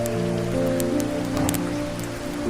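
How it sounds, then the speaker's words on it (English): Steady rain falls outside, a soft, even patter under a low sustained musical drone, with no voices over it. "But listen to the rain outside."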